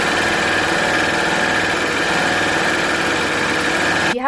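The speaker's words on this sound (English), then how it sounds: "So that's your standard 4-thread overlocker stitch." Baby Lock Acclaim overlock machine running steadily as it sews a 4-thread overlock stitch, a loud, even mechanical whir that continues for about four seconds before stopping abruptly.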